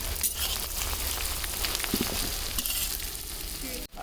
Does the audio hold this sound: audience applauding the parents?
no